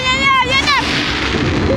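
Fireworks go off in a steady, loud broadband crackle and roar, with excited voices shouting over it.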